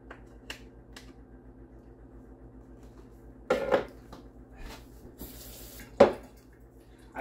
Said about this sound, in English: in rinsing that thing off in the sink, there's still some tiny chunks of beef